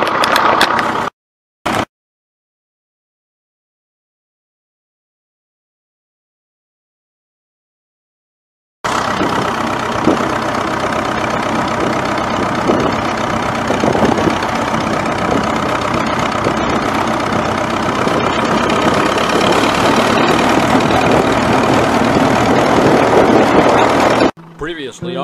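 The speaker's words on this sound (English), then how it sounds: "driving a tractor" A loud tractor engine rumbles steadily at idle after a long stretch of silence, rough and knocking, with a brief break near the end.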